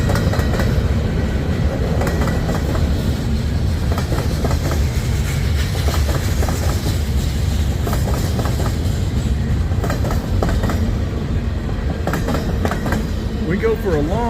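CSX freight train rolling past at Resaca, Georgia, a steady loud rumble with clickety-clack of wheels and faint squeals throughout, with someone talking over it.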